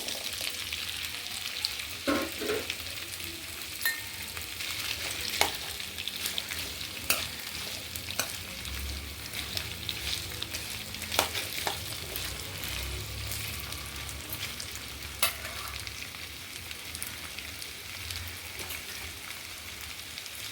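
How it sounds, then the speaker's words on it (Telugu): Ginger pieces frying in a little sesame oil, a soft continuous sizzle with a patter like light rain, broken by frequent clicks and scrapes from stirring. "నువ్వుల నూనె వేసాను కొంచెం. అందులో అల్లం ముక్కలు బాగా ఫ్రై చేసుకోవాలి."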